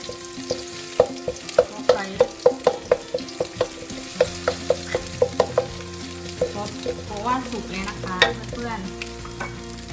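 Eggs stir-fried in a pan for a glass-noodle dish, with steady sizzling and frying beneath a run of quick, regular utensil taps and scrapes against the pan, close and clear.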